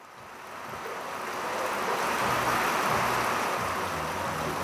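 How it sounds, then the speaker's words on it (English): Heavy rain pours on an island, a dense, steady hiss that swells gently over a few seconds with no voices. "now it's really, really raining heavily"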